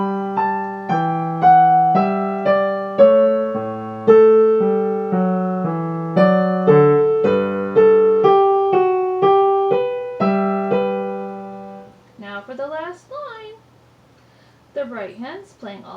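Piano plays the third line of Bach's Marche, steady right-hand eighth notes over left-hand quarter notes, clear and close for about twelve seconds, followed by a short stretch of a voice talking.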